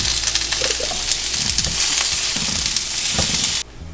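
Tofu and garlic sizzling in a hot pan as everything is flipped, a steady bright frying hiss with a few soft clinks and scrapes, cutting off abruptly near the end.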